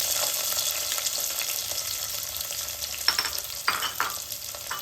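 Chopped onions sizzling and frying in a hot pan while being stirred for Rayalaseema-style gongura dal, a steady close hiss with a few brief stirring clatters near the end.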